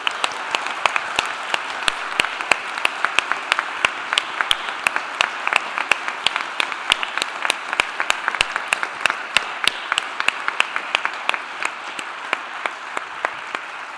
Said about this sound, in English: You guys are killing it with the clapping.